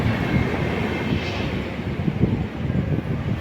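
A low, heavy rumble of a train rolling past with a steady roar and faint rhythmic knocking, fairly loud and continuous.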